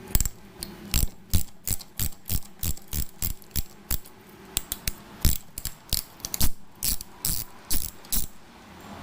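Wrench loosening a nut on a Corvette sun visor, a rapid series of sharp ratcheting clicks in short bursts, close and fairly loud with no talking.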